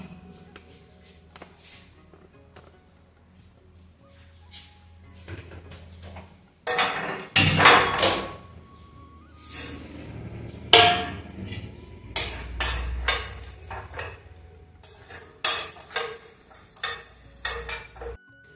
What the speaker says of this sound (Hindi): अभी इनको भून लेते हैं।